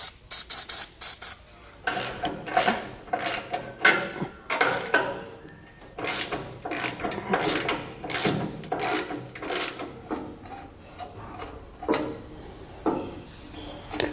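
Penetrating oil sprayed in short repeated bursts onto rusty trailer leaf-spring and U-bolt hardware, close and fairly quiet, with brief hisses separated by pauses and a few mechanical clicks.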